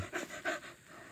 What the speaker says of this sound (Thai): มันเห่าเบาอยู่นี่เฮียนี่